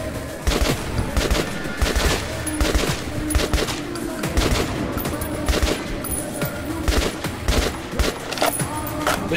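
Sustained machine gun fire in the shooter game Metro 2033 Redux, dense rapid bursts of shots with booming echoes filling the whole stretch, loud and close.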